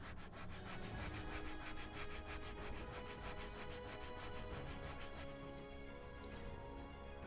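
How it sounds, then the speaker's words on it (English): A small wooden mast ring for a model of the 1776 gunboat Philadelphia is sanded to taper and chamfer its edge. A steady, rapid back-and-forth rasp continues for several seconds close by, then softens near the end, with no talking. "On the other side to taper also together with chamfer in the edge."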